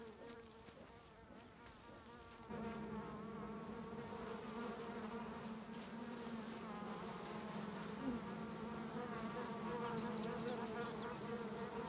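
Bees buzzing around a nest shattered by an Asiatic black bear on a forested slope, a dense steady drone of many insects that swells slightly after a few seconds and carries on without voices.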